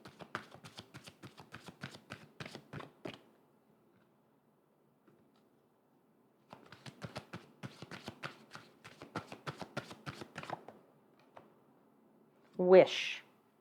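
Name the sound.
shuffling tarot cards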